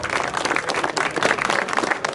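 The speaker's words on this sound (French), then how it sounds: "on peut les applaudir quand même, vous êtes avares aux applaudissements?" Audience at the finish of the Rallye Baldomérien historic car rally clapping in steady, moderately loud applause, a dense patter of many hands heard close with no speech over it.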